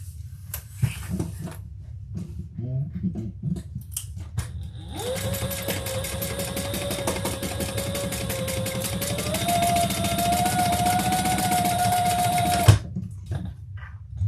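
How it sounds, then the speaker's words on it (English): A sewing machine stitches across the top of fabric. It whirs in a steady, close hum for about eight seconds, preceded and followed by faint handling noises. "We're going to stitch across the top and then we'll add our trim piece."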